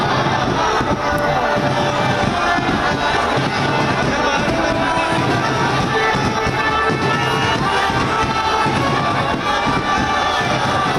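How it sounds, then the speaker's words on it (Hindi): A large crowd roars and cheers continuously at a political roadshow in Bolpur, a dense, loud wall of voices with shouting throughout; individual chanted words are not distinct. "जय श्री राम के नारे भी बीच बीच में सुनाई दे रहे हैं।"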